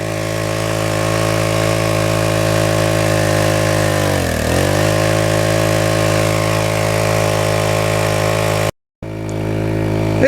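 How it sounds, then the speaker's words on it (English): A Champion 31 cc gas-powered water pump engine roars steadily at full throttle, loud and close, with a brief dip in pitch midway and a sudden cut near the end before it resumes. "I'm going to put our throttle up to the higher level. So the throttle is full open there now."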